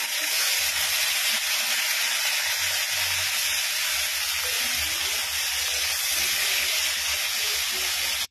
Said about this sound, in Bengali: দেখো আমি লাল লাল করে ভেজে নিচ্ছি।